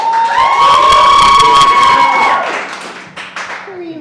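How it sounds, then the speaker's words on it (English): An audience at a Valentine's show bursts into loud cheering and applause, with whoops and claps that swell and then gradually fade over a few seconds. "Based on our audience applause."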